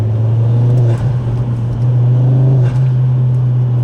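Ford Focus RS Mk2 five-cylinder turbo engine held at a loud, steady drone, with slight dips in pitch as it revs and carries under load, close and continuous without talk.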